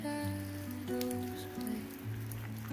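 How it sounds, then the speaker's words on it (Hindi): Raindrops pattering on surfaces on a mountain road trip in Arunachal Pradesh, a faint scattered tapping under a steady background hum with sustained tonal sounds running throughout. "आप अगर देख पा रहे हो तो बारिश की बूंदें भी टप टप हो रही है"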